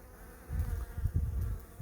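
A bee buzzes up close outdoors on a trail while gathering pollen, a brief, low, wavering hum that swells in after a quiet start and holds for about a second.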